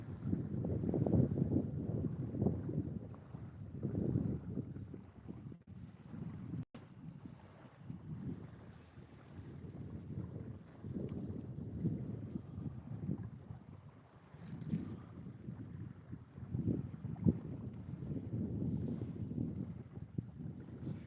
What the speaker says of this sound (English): it's the wind done picked up again. Or is it getting real bad wind noise?